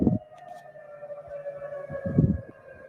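A long, steady wailing tsunami warning siren hangs over an Alaskan scene of green trees, distant and eerie, with a couple of low thumps of wind or handling noise.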